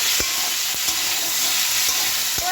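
Potatoes, tomatoes, green chili and panch phoron frying in hot oil, a steady close sizzle with occasional stirring knocks against the pan.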